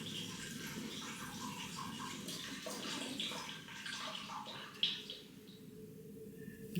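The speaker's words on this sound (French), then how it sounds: "Maintenant, je vais venir rincer. Avant ça, je mets un petit peu d'eau et je viens gommer ma peau." A little water splashes and runs as skin is rinsed and scrubbed, a soft, close, continuous wash with small drips and bumps.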